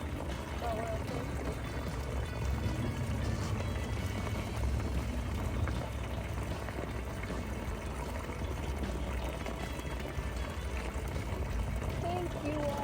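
A steady, unbroken rush of water pouring in a continuous flow during a beach day, moderately loud throughout, with faint voices blended underneath.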